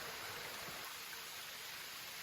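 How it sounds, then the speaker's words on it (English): A steady, even rush of falling water from Harvey Falls on the Foothills Trail in South Carolina, a continuous hiss close by with no voices. "Just got to my first waterfall, Harvey Falls."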